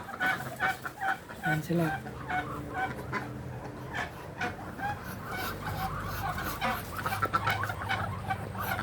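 Muscovy ducks in a backyard farm give repeated low hisses and soft calls up close, with farmyard background and a brief voice speaking.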